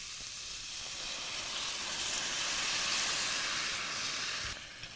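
Roughly a pound of diced tomatoes hits a hot pan while cooking kofta meatballs, giving a steady, bright sizzle and hiss that swells slightly and holds, close up with no talking.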